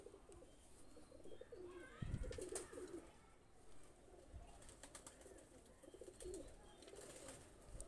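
Two Shialkuti pigeons coo in a few soft, rolling phrases at close range, joined by brief rustling and a sharp thump partway through.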